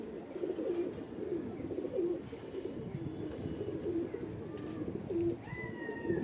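Crossbred desi pigeons coo in a loft, repeated soft rolling coos over a steady low rumble of background noise, with a faint higher chirp near the end.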